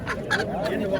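Young roosters clucking at a poultry bird market in Qoraqamich, Tashkent, brief close clucks mixed with people talking over market bustle.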